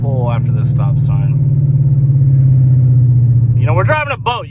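An LS-swapped, 1200 hp Dodge Hellcat pulls away from a stop sign with a deep, steady engine rumble heard from inside the car. Voices talk over the start and end.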